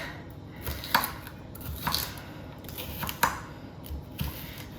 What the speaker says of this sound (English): I'm going to be chopping up the stuffing for the mushrooms